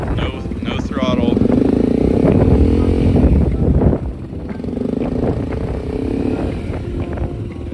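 A motor engine revs loudly and steadily, its pitch rising and holding, then dropping slightly and continuing at a lower roar.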